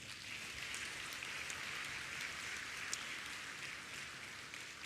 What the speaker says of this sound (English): So you could say thank you to all your lecturers who are here by giving them a big applause.